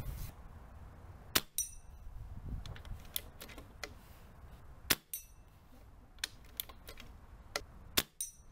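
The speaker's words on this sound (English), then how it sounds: "So the first shot of 14 I'm about to take." Hatsan Galatian air rifle fired over a chronograph, several sharp close snaps and clicks spaced a second or two apart against a quiet background, including a few strong shot-like cracks.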